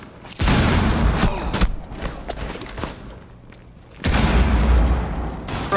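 A frag grenade going off in Rainbow Six Siege, two loud booming blasts a few seconds apart, each with a long rumbling tail, close and dominant.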